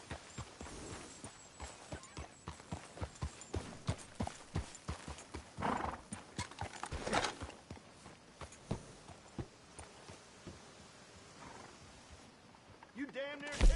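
Horse hooves clip-clop steadily in the Red Dead Redemption video game, with occasional whinnies and voices talking over the hoofbeats at close range.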